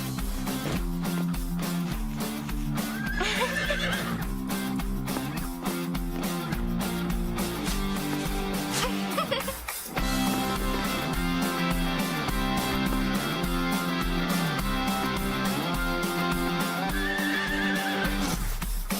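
Cartoon horse in a children's animated series neighing twice, a rising whinny early and another near the end, over continuous background music.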